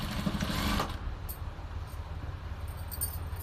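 A domestic sewing machine stitching a collar runs in a close, steady whirring burst for under a second, then stops, leaving low room hum and a few faint clicks.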